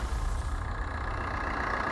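A 2012 Maruti Swift VDI diesel engine idles, a steady, close low rumble with a constant clattering hum and no voices present.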